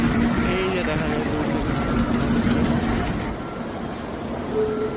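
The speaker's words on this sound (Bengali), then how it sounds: "ওকে, আমাদের ট্রেন চলে আসছে।" A Japanese bullet train pulls into a station platform, producing a broad, steady rumble and whoosh with faint tonal whines, as people talk nearby.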